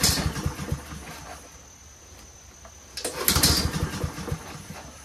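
Honda-powered Troy-Bilt 21-inch front self-propelled lawn mower on choke, pulled but failing to start: two bursts of rattling pull-cord and engine sputter separated by a quieter gap, with birds chirping in the background.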